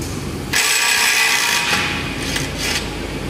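A Ryobi ONE+ HP 18V brushless 1/2-inch impact wrench, rated at 600 foot-pounds, hammers at an axle nut in a loud, close, rattling burst lasting a few seconds with pulsing bursts near the end.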